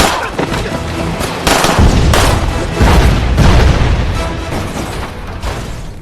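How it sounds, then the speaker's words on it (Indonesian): Car bomb explosion in a film, a series of heavy booms and crackling bursts that swell and rumble over several seconds, loud and dense with low-end impact. "tiba-tiba mobil yang dinaikinya meledak karena ternyata ada sebuah bom yang telah dipasang di"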